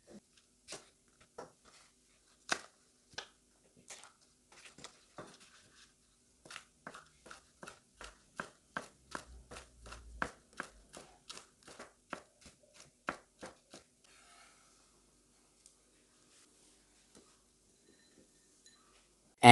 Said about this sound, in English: Now finely slice 1 stem of spring onion.